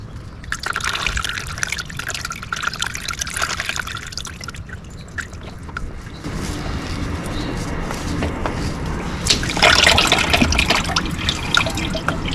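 Engine oil drains from a Mazda 3 BL into a container, a steady trickling, splashy dribble close by that grows slightly brighter toward the end.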